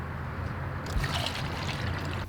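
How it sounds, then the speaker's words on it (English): Water-like trickle of antifreeze running from an RV camper faucet during winterizing of the plumbing, a soft steady flow that grows slightly fuller partway through and then cuts off near the end. "I now turn the faucet on in order to distribute AntiFreeze throughout the plumbing system."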